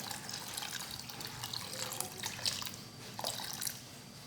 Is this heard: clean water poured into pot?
yes